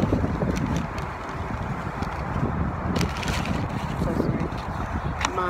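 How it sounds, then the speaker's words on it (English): Strong wind buffets the microphone in a constant rumbling roar, with gusts rising and falling throughout. "So windy."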